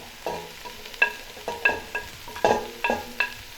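Onions, curry leaves and dried shrimp frying in a pan for a Sri Lankan breakfast, with soft sizzling under repeated scraping stirs of a utensil at an irregular pace, close by.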